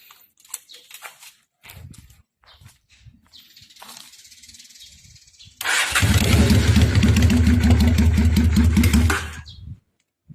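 A 1991 Honda Steed 600cc motorcycle engine, started cold, fires up and revs loudly for several seconds, a dense roaring rumble, after quieter idling and mechanical clicks.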